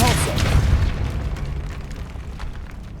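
A Depulso spell blast in Hogwarts Legacy, a loud booming burst that rolls off into a rumbling decay, close and dominant over the game's background.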